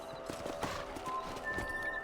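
Horse hooves clip-clop in quick, close rhythmic steps in the video game Red Dead Redemption, with faint ambient game sound underneath.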